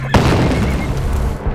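A loud, sudden gunfire blast from soldiers in a film battle scene, a single booming report followed by a rumbling echo that fades over about a second and a half.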